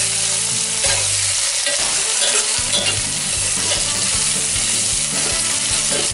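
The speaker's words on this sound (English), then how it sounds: "Go ahead and use the onion to scrape all that brown goodness off the side and bottom of your pan." Onion stirred through hot oil in a pressure cooker pot for carnitas, scraped across the browned pan bottom: steady loud sizzle with repeated scraping strokes, close and continuous, with no talking.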